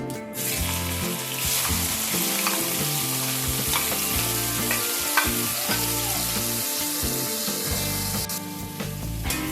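Four finely chopped medium onions added to hot oil for a murg musallam gravy, sizzling loudly and steadily up close with spoon scraping and crackles, with a faint hum in the background.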